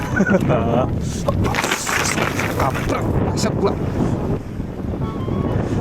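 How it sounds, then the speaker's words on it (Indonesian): Strong wind buffets a fishing boat at sea on a salmon fishing trip, roaring loudly over the microphone with gusty bursts and some water noise, while a voice talks over it. "anginnya parah kali tapi jauh"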